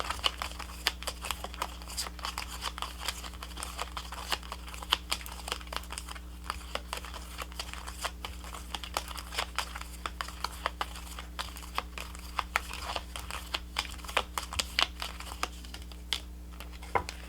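Tarot cards are handled and shuffled close by, giving quiet, irregular crisp flicks and soft paper rustles over a low steady background hum, with no talking.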